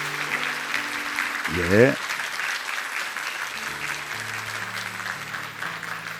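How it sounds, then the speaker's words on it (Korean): Church congregation applauding to welcome families arriving for an infant baptism service, a steady wash of clapping throughout with a brief voice and background tones over it. "큰 박수로 환영하며"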